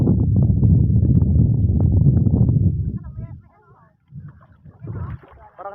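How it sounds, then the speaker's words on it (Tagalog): A fast boat, likely a small banca, runs loudly past swimmers on the water, its engine roar dominating the first three seconds before it cuts away, leaving scattered nearby voices talking. "bangka yan, mabilis"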